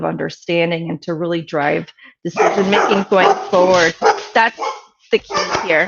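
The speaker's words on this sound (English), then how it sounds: "I have dogs at home, so you can hear them barking in the background." Dogs bark at home in the background while someone speaks, their yips and barks mixed in and partly masked by his steady talking.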